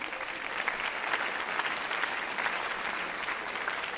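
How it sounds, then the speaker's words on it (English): Sustained applause from a sizable crowd at a graduation awards ceremony and commencement, dense steady clapping at moderate volume throughout with no break. "can we get a round of applause for our guests that were here?"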